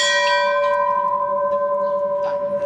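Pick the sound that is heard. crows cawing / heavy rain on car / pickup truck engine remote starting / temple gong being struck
temple gong being struck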